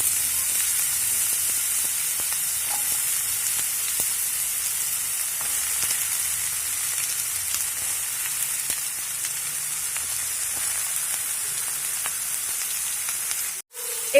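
Chopped brinjal and potato fry in oil in a kadai with a loud, even, continuous sizzle and fine crackle that runs unbroken for a long stretch, ending with a brief dropout.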